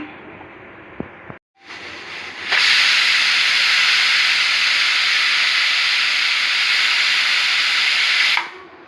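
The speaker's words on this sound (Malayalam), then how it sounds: "ഈ കുക്കർ അടച്ചിട്ട് ഒരു രണ്ട് വിസിൽ കേൾപ്പിക്കാം" A loud, steady hiss of steam blasts from a pressure cooker whistle for several seconds, preceded by a quieter hiss, then cuts off abruptly.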